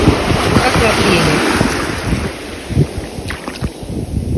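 Strong wind gusts roar against the microphone alongside rushing water, loud and constant with choppy bursts.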